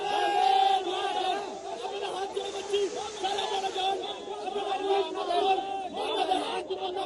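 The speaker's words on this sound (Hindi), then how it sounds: "ये भीड़ गुस्सा है, भीड़ का आवाज जरा सुना देते हैं हमारे दर्शकों को।" An angry crowd at a rally in Kolkata shouts and chants in a dense, continuous roar of many voices, close and loud throughout.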